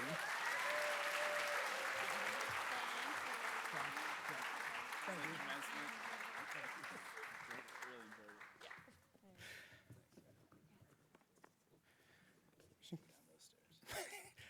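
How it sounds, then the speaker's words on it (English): An audience at a chamber of commerce awards celebration breaks into a sustained round of applause, dense and loud for about eight seconds before thinning out and fading, with a few scattered claps and murmurs after. "Please join me in a round of applause for Lynn, Jake, and Brian for their service to our community"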